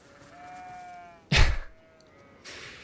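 Goats bleat in the Elden Ring video game. One drawn-out bleat is followed by a sharp, loud thump, then a fainter second bleat and another soft knock near the end. No one speaks.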